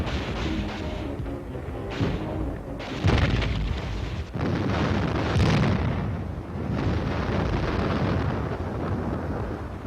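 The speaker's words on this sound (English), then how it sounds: "Under cover of a simulated artillery barrage, supported by tanks, the infantry continues to push ahead." Simulated artillery barrage explosions during a military infantry exercise with tank support in Hawaii: loud, dense booms and bursts rolling on continuously, with heavier blasts near 3 and 5.5 seconds.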